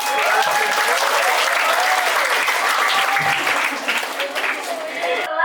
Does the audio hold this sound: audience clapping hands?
yes